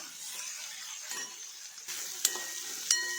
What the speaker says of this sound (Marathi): कांदा तेलातच परतून टाकत आहे।